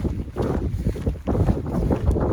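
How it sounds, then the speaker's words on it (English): Gusty wind buffets the microphone outdoors on a walk, loud irregular rumbling bursts with brief lulls, no one speaking. "It did get a bit windy all of a sudden,"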